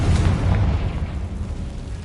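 A Confringo blasting spell explodes in the Hogwarts Legacy game, a loud, sustained boom with a deep rumbling low end lasting about two seconds.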